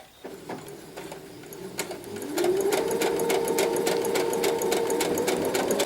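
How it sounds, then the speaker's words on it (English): A sewing machine sews an infinity scarf with a straight stitch, with slow uneven clicks at first, then a run-up to a continuous, even mechanical whir that carries on to the end. "we're just gonna sew it all the way around with the simple straight stitch"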